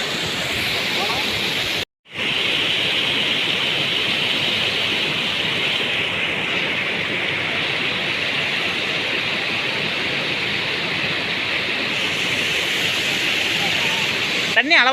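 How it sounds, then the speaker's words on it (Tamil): River water rushing steadily near the Anaimalai area outside Pollachi, a loud, continuous broadband roar that barely changes over time, with a brief gap near the start. "தண்ணி அளவாக போகுது போல."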